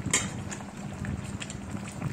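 Boal fish curry with gourd and potato simmering in a pot, giving a soft, continuous bubbling hiss with small pops at close range.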